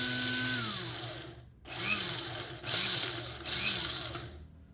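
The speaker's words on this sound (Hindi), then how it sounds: "एक ग्राइंडिंग जार में इन चीज़ों को डालकर अच्छे से ग्राइंड करके एक पाउडर बना लेंगे" An electric mixer-grinder jar whirs as it pulverises dried flowers, leaves and whole spices such as cardamom and cloves into powder, running steadily before a brief stop, then three loud pulsed bursts with audible motor pitch swings, close by.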